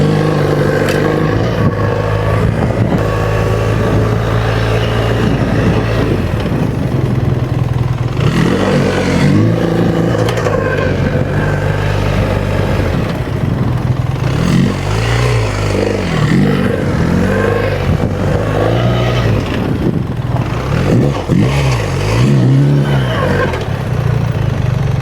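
A BMW R1300GS adventure motorcycle pulling away at low speed during a tight U-turn on loose ground, its engine loud and close with a steady throb, small revs and some clatter.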